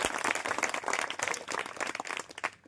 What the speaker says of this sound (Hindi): इनके लिए जोरदार तालियां हो जाएगा।